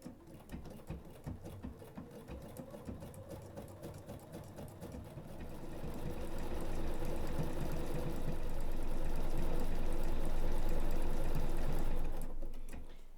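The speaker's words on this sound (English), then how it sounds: "Lower my presser foot and I will begin stitching stitch number 302." A BERNINA sewing machine with a binder attachment sews a row of stitch 302, a close, rapid, even whirring clatter that runs steadily and swells louder toward the end, with no talking.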